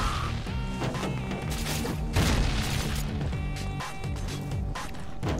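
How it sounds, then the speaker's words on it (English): A grenade blast from the video game Bionic Commando Rearmed crashes over the game's continuous music and effects, a loud booming burst near the middle, with other thumps and smashes scattered around it and no voice. "That's a bad grenade, it's gonna miss."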